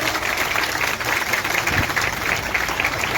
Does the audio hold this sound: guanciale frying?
no